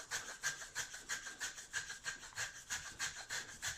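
Sawing into plywood for a model aircraft wing: steady back-and-forth rasping strokes, about four per second in an even rhythm, close and moderately loud with no talk.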